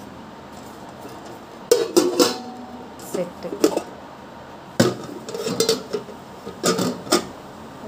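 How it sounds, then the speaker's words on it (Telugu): Lightweight cooking pots and bowls from a newly bought kitchen set clink and clatter in several bursts of handling, with a person talking over the metallic knocks. "ఇవైతే ఈ గిన్నెలు అయితే మాత్రం కొంచెం తేలిగ్గా ఉన్నాయి"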